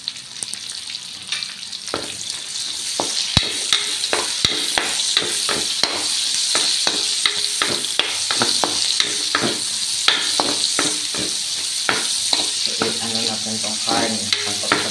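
Onion and garlic frying in a pan for a vegetable sauté, a continuous loud sizzle with frequent clacks and scrapes of a utensil stirring against the pan throughout.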